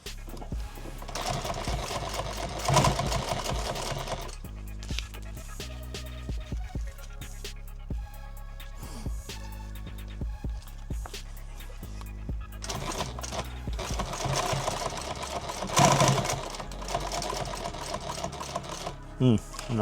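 A sewing machine stitches a modular load-bearing vest in two fast whirring bursts, one near the start and one near the end, with quieter handling and rustling between them, close by.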